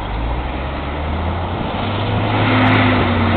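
A city bus stuck in a heavy December snowstorm in Barrie, Ontario, drones with a loud, steady straining engine rumble that rises slightly toward the end, with no voices over it.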